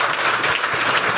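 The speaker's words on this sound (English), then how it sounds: "let's have a round of applause for Ram's Head" An audience at the Rams Head venue in Annapolis breaks into steady, loud applause during a mayoral debate event, a dense continuous clapping with no talking.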